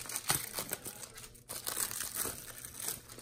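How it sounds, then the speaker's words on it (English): Thin plastic baggie ripped off a wireless earbuds box, a run of close crinkling and tearing rustles with a short pause partway through. "we have this nice little baggie over it, so I'm just gonna rip that off right now"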